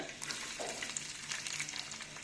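Large onions drop into hot oil in a pan for chicken manchurian, giving a steady close crackling sizzle with small pops that keeps going throughout, with no voices over it.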